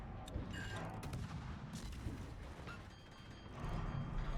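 Gunfire in a video game, heard as quiet, muffled shots and booms that roll on continuously in a dense wash of noise, with no voices.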